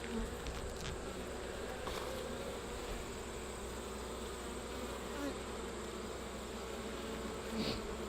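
Honey bees hum around an opened beehive during a super install and inspection, a soft continuous drone with occasional louder passes as individual bees fly close, no talking.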